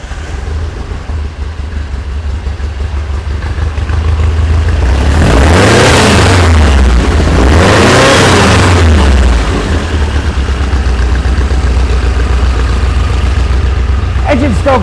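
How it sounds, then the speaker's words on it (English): A 1973 VW Super Beetle engine fitted with 40 IDF carburetors cranks and fires after a few seconds, roaring up loudly before settling into a steady, rumbling close-up idle, with a voice heard over it. "let's turn on this key and see if she lights off easy"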